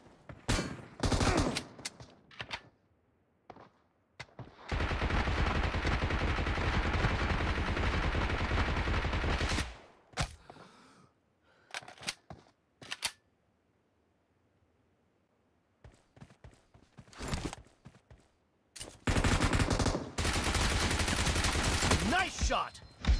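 Gunfire in the video game PUBG during a team deathmatch, with dense bursts of automatic fire and scattered single shots, loud and close, with pauses of near silence between the volleys.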